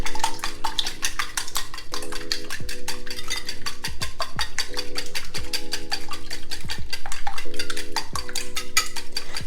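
Whisk beating five eggs in a bowl, a fast steady rhythm of clinking taps against the bowl's side, close and continuous, over a faint background hum and without talk.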